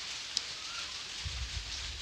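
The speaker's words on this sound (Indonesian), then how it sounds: "Karena ini keadaan kondisinya hujan" Steady rain falls outdoors as a continuous, even hiss with a few faint drops standing out, heard alone with no one speaking.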